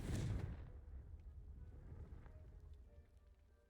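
Confringo explosion spell going off in the video game Hogwarts Legacy, a sharp burst followed by a long rumbling, crackling decay that fades over several seconds.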